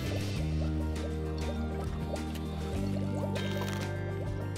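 Water is collected in the video game Judgment: Apocalypse Survival, a close pouring, trickling sound over sustained steady background tones, with no talking.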